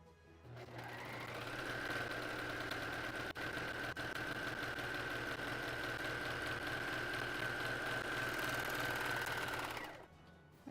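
A sewing machine stitching a corset runs continuously for about ten seconds, a steady rapid mechanical whir with a sustained whine, starting and stopping cleanly, close and unaccompanied by speech.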